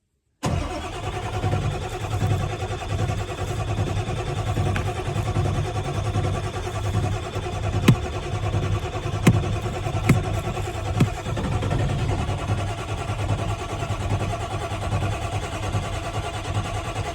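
A big black truck engine cold-starts abruptly out of silence and settles into a loud, steady rumbling idle, with a few sharp clicks and taps over the running engine.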